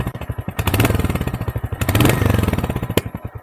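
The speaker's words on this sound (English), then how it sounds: "let me just accelerate and then show you how good the exhaust note is" A Royal Enfield Hunter 350 motorcycle revs up from a stock exhaust in loud, close, thumping pulses, with rising surges and rough crackles between throttle blips.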